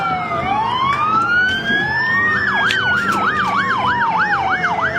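Police siren sounding loud and close, first a slow rising-and-falling wail, then switching to a rapid warbling yelp, alone without voices.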